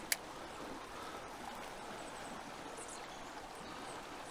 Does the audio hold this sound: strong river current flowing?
yes